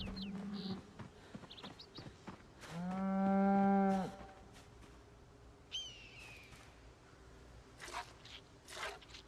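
Cow mooing in the video game Project Zomboid, one loud drawn-out moo rising in the middle, surrounded by quieter scattered clicks and short game effects.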